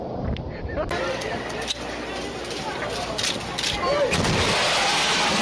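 A sharp, loud sonic boom from a jet aircraft bursts out over steady roaring jet noise, followed by a few more cracking blasts as the rumble continues.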